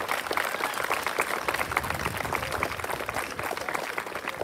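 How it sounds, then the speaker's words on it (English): An audience at a school historical march event gives a dense, sustained round of applause, with many hands clapping together at a steady, moderately loud level throughout. "can we please give a round of applause to Mr. Rendolick's homeroom?"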